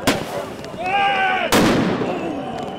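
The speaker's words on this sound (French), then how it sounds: "Pétards et engins incendiaires pleuvent sur les policiers." Firecrackers and incendiary devices burst during a May Day street riot in Paris, with sharp loud bangs near the start and at mid-clip, one followed by a rising whistling screech, over a constant crowd din.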